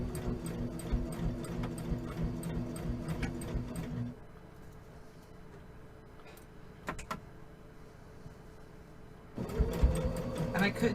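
A sewing machine runs in steady rapid stitching bursts, pauses for a few quiet seconds with faint handling noises, then whirs back into stitching.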